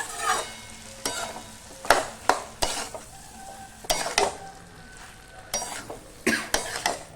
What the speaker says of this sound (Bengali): ভালো করে মিশিয়ে দিয়ে একটু খুন্তি দিয়ে এরকম ঘেটে ঘেটে দেবো